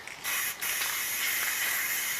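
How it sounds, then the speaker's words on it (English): Clear lacquer sprays from an aerosol can onto a wooden Halloween gallows decoration, a close, steady hiss that starts sharply after a short pause and runs continuously. "I've decided to just go with clear spray lacquer to give it a finish"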